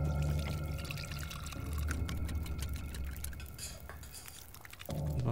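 Water poured to cook oatmeal in a video game, a steady trickling splash over quiet background game music, close and moderately soft, stopping near the end.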